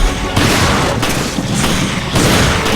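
Shotgun blasts from the Resident Evil Revelations video game: heavy, booming reports packed into a loud, dense wash of game noise, with fresh surges near the start and again toward the end.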